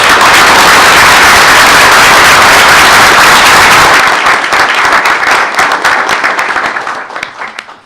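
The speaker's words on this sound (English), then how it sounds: "Let's give them a round of applause." Audience at a school board meeting giving a loud round of applause, dense clapping that holds for about four seconds, then thins into scattered individual claps and fades out.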